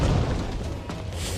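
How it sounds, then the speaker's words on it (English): Rumbling explosions in a Black Desert Online cutscene during a battle at the gates, a dense, loud low-end roar with a sharper burst near the middle and a hissing swell at the end, no voices over it. "Explosions!"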